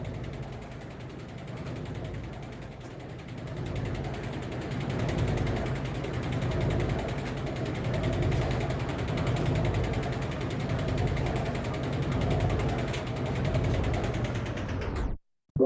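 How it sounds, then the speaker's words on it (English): A laundry machine running, captured on an iPhone: a continuous low mechanical churn with faint rhythmic clicking and rattling, steady and moderately quiet, stopping abruptly at the end. "here's what the laundry machine sounds like by itself"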